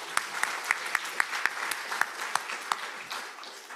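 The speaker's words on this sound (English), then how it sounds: "let's give them another round of applause." Audience applause at an international forum's opening plenary, a steady wash of clapping from a room of people with sharp individual claps standing out, moderately loud and slowly thinning toward the end.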